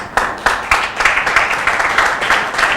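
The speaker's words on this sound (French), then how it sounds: "J'avais bien voulu que vous puissiez applaudir Amani" An audience claps at a women's football club event for FC Amani in the DR Congo, with steady, fairly even hand claps close by and no talking over them.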